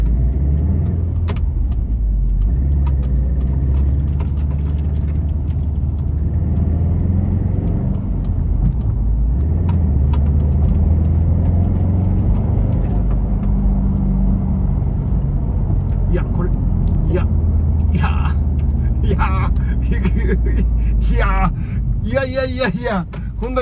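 Subaru WRX driving at speed on a German autobahn, with steady low engine and road rumble throughout and someone talking over it from inside the cabin.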